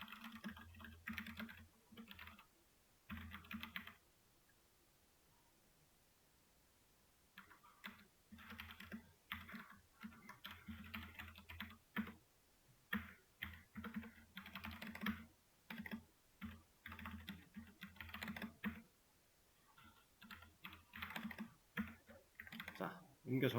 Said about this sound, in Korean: 아까 본 그 글대로 지금 저도 타이핑하고 있는 겁니다.